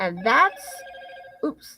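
A phone rings with a steady electronic tone lasting about a second, heard indoors between bursts of a woman's speech during a crochet and knitting pattern discussion.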